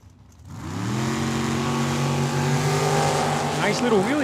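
At a drag strip, a Chevy Malibu and a dragster launch side by side with loud, roaring engines that rise in pitch as the cars accelerate, while an announcer talks over the noise.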